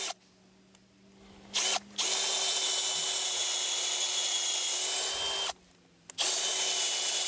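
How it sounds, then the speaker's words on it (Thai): A power drill bores into the trunk of a Hainan rosewood tree in a plantation, running loud and steady for several seconds. There are two short pauses where the motor stops and restarts, and no one speaks. "เดี๋ยวผมเจาะให้ดู"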